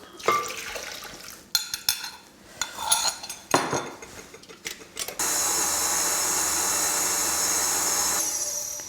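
Cutlery clatters and scrapes against a bowl as condensed milk, lemon juice and gelatin for a jelly slice are combined, then a steady whirring beater runs continuously, close and without voices.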